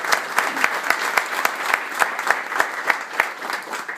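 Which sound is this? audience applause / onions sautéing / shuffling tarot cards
audience applause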